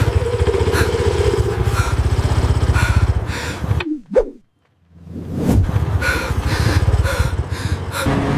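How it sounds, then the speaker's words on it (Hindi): A motorcycle engine runs loud and close, dropping away to near silence briefly midway before the rumble swells back up. "ओए बुड्ढे, मोटरसाइकिल रोक!"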